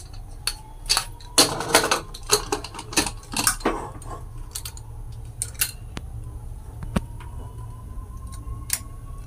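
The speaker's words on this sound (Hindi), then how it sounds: "अब उसको कुकर में ढक्कन लगाएंगे।" Sharp metallic clicks and clanks, a quick cluster of them early on, then a few scattered knocks as the lid is fitted onto a pressure cooker holding chickpea curry, close by.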